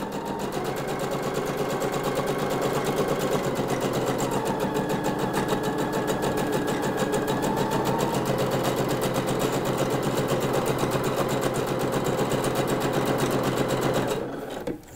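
Sewing machine stitching a long gathering line along a dress sleeve head, running continuously at steady speed with a fast even needle rhythm, loud and close, stopping just before the end.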